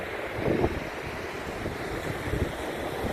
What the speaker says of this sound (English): you can hear these waves as you can